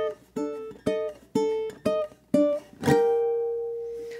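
On ukulele, the fourth bar of Danse Macabre comes as six quick plucked notes in a bouncy rhythm, then a final struck chord that rings out and fades, close and clear with no talking.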